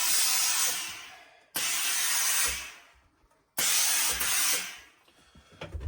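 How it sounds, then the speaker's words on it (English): Bursts of hissing steam from a steamer play over an antelope fur felt trilby hat, three strong blasts that each start abruptly and taper off, separated by short gaps, close and fairly loud with no talk. "So let's carry on with the steaming."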